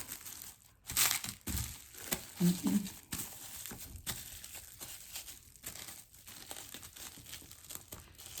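Plastic wrap crinkles and crackles as it is stretched across a clay coil bowl, in irregular close, quiet bursts with brief pauses between them.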